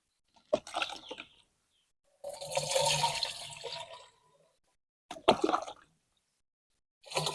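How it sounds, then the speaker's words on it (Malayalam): Liquid is poured into a garden sprayer in several separate splashing bursts, with short silent gaps between pours and no talking. "ഇത് നമുക്ക് സ്പ്രെയറിൽ ഒഴിക്കാം"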